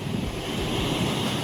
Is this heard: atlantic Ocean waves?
yes